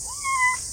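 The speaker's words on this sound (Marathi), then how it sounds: "आता तुमका माझ्या आजूबाजू पक्ष्यांचे आवाज" A single bird gives one short rising, whistled call close by a Konkan river in the evening, clear over a steady background hiss.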